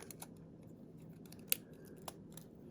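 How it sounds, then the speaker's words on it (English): Card stock for a card-in-a-box craft being trimmed down, giving a couple of crisp, sharp snips over a quiet, faint background. "this one I kind of cut incorrectly on the trimmer. So we're just going to trim that down."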